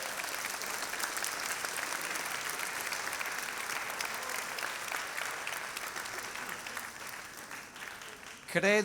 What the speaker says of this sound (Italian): per il quale chiedo un applauso